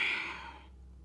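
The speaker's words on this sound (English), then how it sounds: "Breathing out." A single soft exhale during a yoga class, a breathy rush that fades out within about half a second, faint and close, with no speech.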